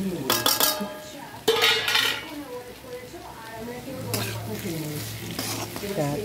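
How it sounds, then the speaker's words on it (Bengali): Oil sizzles steadily in a pan of frying onions and green chillies while a spatula scrapes and stirs in bursts, and a voice talks faintly over the frying. "এটা ভালো করে ভাজা হোক"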